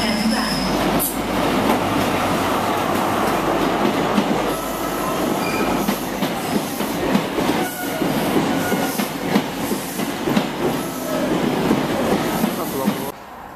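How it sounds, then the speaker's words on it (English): A First Great Western high speed train rolls into a station platform in Devon, a steady loud rumble of wheels and carriages with faint squeals and rattling throughout, continuing at a fairly constant level until it eases near the end. "train now approaching platform 7 is the 10:13 First Great Western service to London Paddington"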